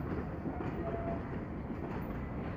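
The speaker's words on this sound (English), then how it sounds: "we have a cross-country Voyager, or Super Voyager, we'll clarify that in just a second, off to Manchester Piccadilly" A Cross Country Voyager train bound for Manchester Piccadilly passes through a station with a loud, continuous rumbling roar and faint rail clatter, steady from start to end, with no voices.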